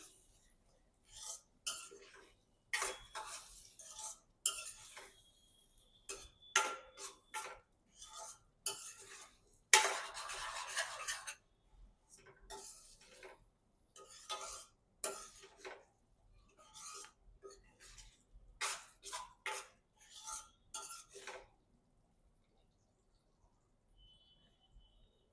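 Paneer is mixed into an oily masala in a pan with short, repeated strokes of a spoon that scrape and clink against the metal, close and fairly quiet, with small pauses, ending in near silence.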